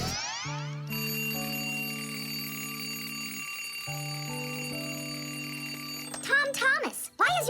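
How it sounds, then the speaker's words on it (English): A bright electronic alarm clock plays a repeating tonal melody for several seconds, then a voice begins talking over it near the end. "why is your alarm clock ringing in the middle of the night"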